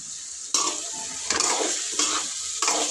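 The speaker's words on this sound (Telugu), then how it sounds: "కారం అన్నీ వేసినా ఒకసారి అయితే కలుపుకుందాము" Okra curry with chili powder being stirred in a pan: a steady frying sizzle broken by four scraping stirs at roughly even intervals, close and fairly loud, with no voices.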